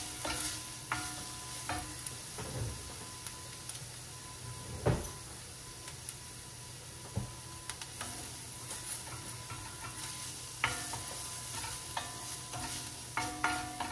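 Garlic, oregano, salt and pepper sizzle softly in a pan as vodka goes in, with a spoon scraping and stirring and occasional sharp knocks against the pan, and no talking.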